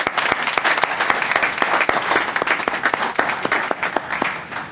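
A room at a city council meeting bursts into steady applause, many hands clapping densely and loudly with no talk over it, sharp individual claps standing out from the continuous patter.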